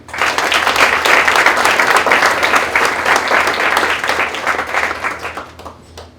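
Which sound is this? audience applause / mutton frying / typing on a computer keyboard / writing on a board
audience applause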